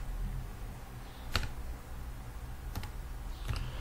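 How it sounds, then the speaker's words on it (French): Values being entered on a computer keyboard: a few sparse, sharp key clicks spaced about a second apart over a low steady hum, no talking. "je tape les valeurs maintenant"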